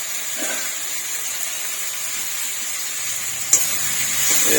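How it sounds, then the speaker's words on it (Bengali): Spice masala sautéing in a pan for a rohu fish curry makes a steady, close hiss of frying. A single sharp clink of a utensil comes late, with no voices. "আমি মশলাটা কষিয়ে নিই ভালো করে"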